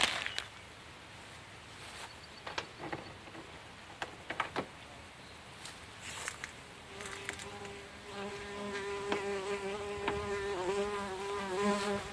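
Flies and wasps buzz continuously outdoors on a hot summer day near cut grass, with faint passes at first and a steadier, louder drone building in the second half.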